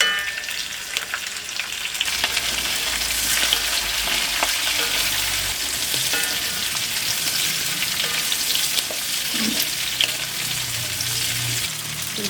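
Bitter gourd and green chillies sizzle and crackle steadily in a pan for Kerala pavakka theeyal, a continuous close frying hiss with occasional stirring scrapes and no talking.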